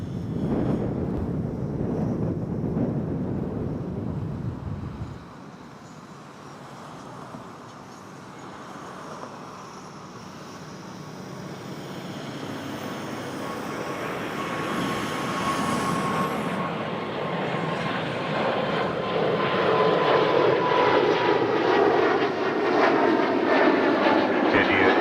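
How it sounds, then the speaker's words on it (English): An Air Canada Airbus A320 takes off from Toronto runway 05 bound for Ottawa, its engine roar rumbling steadily and swelling louder over the span as it climbs away. Faint radio chatter sits in the background. "here comes an A320 of Air Canada's."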